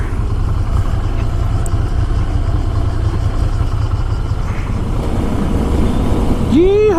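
A motorbike engine runs steadily up close and drones on throughout, with a person's voice rising briefly near the end.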